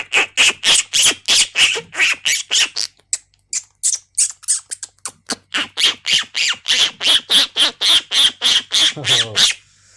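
A mimicry artist imitates birds calling in the morning with a rapid, continuous run of sharp squawks and chirps, loud and close with no talking.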